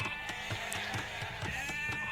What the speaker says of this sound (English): The sheep are collected and we start scouting.